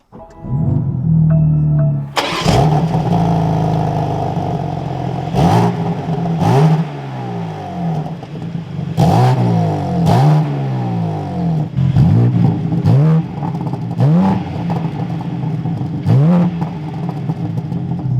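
A BMW M4 CSL fires up with a sharp starter catch and bark, settles into idle, then rips through a series of loud, close blips and revs with crackling pops between them.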